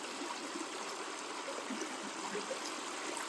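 Continuous rushing and trickling of Corbin Creek flowing over rocks, close and steady, with no voices.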